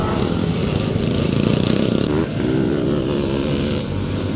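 Pre-1984 class classic motocross motorcycles racing past at Penrith, a loud, close, continuous engine roar whose pitch shifts as the bikes go by.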